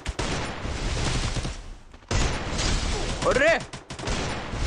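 Rapid gunfire bursts in the mobile battle royale game Garena Free Fire, loud and dense, cutting out briefly before resuming, with excited male speech over the shooting.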